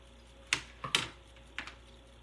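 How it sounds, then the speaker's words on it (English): Scissors snipping through ribbon, two or three quick close crisp cuts in a quiet room. "I'm going to cut this ribbon off."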